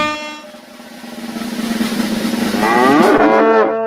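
A cow gives one long, loud moo that starts low and swells, rising and brightening toward the end. It stands alone, with no talk over it.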